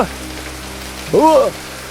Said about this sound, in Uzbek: Yomg'ir ham tinavermadi-ya.